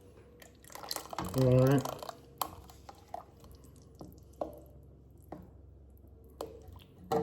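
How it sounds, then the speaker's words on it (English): Tomato sauce poured into a pan for a smoked chicken enchilada casserole, giving a thick wet glug and squish followed by scattered drips and light taps of a utensil, with a brief spoken remark. "But I've got some more tomato sauce. I'm gonna add that here in just a second."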